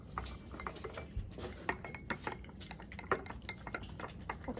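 Homemade slime being stirred and mixed in a bowl gives a continuous run of close, small clinks and scraping knocks, uneven in rhythm and moderately loud, with no talk over it.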